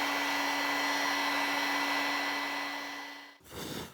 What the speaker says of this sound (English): We'll go ahead and shrink that heat shrink.